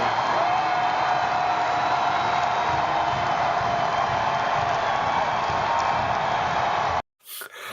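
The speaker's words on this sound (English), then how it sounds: "Can we get a round of applause for this?" Loud, dense crowd applause with cheering runs steadily for about seven seconds, then cuts off abruptly, followed by a brief burst of noise.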